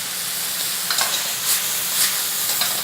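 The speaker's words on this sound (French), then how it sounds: "C'est l'ail qui rôtit. L'oignon et l'ail qui rôtit." Onion and garlic with oregano sizzle in a pan, a steady, close hiss broken by a few soft stirring scrapes.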